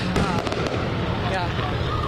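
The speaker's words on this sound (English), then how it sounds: "the illegal fireworks that are shooting up off of the street directly behind them and going off into the air" Illegal fireworks shooting up from a street and bursting in the air, heard as a continuous loud crackle with scattered sharp pops throughout, like a dense outdoor barrage.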